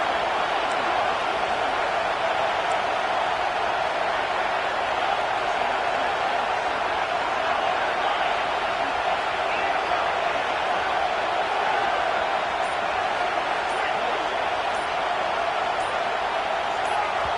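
A loud stadium crowd at a UCLA vs Clemson college football game roars as one continuous wall of noise for the whole stretch, with no break.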